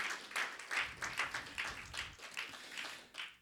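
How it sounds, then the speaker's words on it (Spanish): A congregation at a church service claps in a steady rhythm, with repeated faint claps coming at a regular beat from somewhat far away. "Otro aplauso, amados hermanos"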